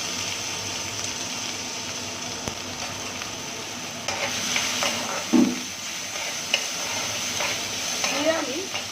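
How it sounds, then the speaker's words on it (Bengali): Ginger and tomato frying with spices in a Bengali kitchen, stirred in a pan: a steady low sizzle runs throughout, with occasional scrapes and knocks of the spoon, moderately close and with no talking. "দিয়ে আমি মশলাটা কষাতে থাকবো।"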